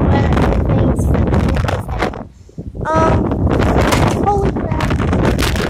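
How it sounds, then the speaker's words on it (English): Strong wind during heavy rain buffets the microphone outdoors in gusts, dropping briefly before roaring back, while a person exclaims over it. "it's raining really bad"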